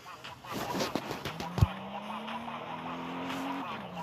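In a car driving video game, a car engine whines with rising and falling revs alongside a short sharp tire skid and squeal, close and fairly loud, with a voice speaking faintly underneath.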